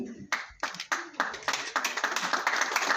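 An audience at a Jammu Printers Association felicitation ceremony claps steadily and warmly, the applause swelling into dense continuous clapping.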